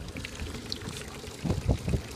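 A 2010 Mariner 9.9 four-stroke outboard on an Orkney Dayangler 23 boat spurts a steady stream of cooling water that splashes and pours close by, rising in a few louder gushes, with a low engine rumble beneath.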